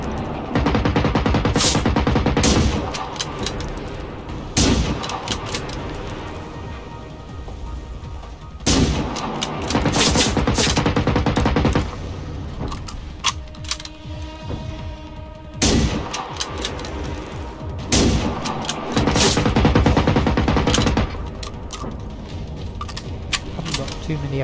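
Gunfire in a tank battle video game on an airfield: long stretches of rapid, loud automatic fire broken by short pauses, with heavy engine rumble underneath and someone talking over it.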